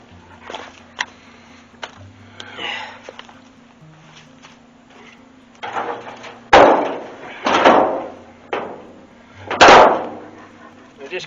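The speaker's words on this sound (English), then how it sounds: "Just gotta close the door so the dogs don't get in where the fire is." A door being closed to keep dogs away from a bacon smoker fire, with several loud thuds and bangs among scattered clatter and rustling, some of the hits heavy and sharp.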